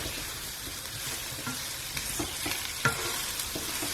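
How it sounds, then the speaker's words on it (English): Raw spices frying and being stirred in a pan for a beans and potato masala fry, with a steady close sizzle and a few sharp scraping stirs. "Make sure you cook those raw spices through nicely for a few minutes."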